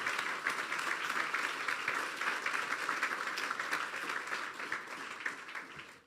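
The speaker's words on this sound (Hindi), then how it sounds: "जोरदार तालियां यीशु के जलाल के लिए।" Steady, loud applause from a large church congregation, continuous clapping that holds for several seconds before tapering slightly at the end.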